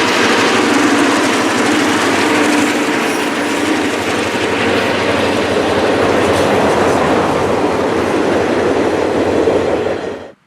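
A CPKC train climbs a mountain grade on Rich Mountain, rumbling past up close, steady heavy roar with rhythmic wheel clatter, fading out abruptly at the end.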